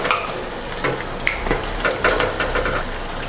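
Wheat bonda batter frying in hot oil over a medium flame, a steady close sizzle with crackling bursts and occasional bubbling pops throughout.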